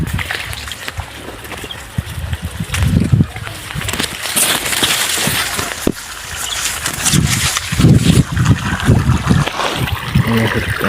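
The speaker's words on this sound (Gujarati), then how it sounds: "પાણી પણ ચાલુ છે." Water runs through a channel in a sunny farm field, producing a continuous gurgling trickle with splashy bursts that rise and fall near the listener.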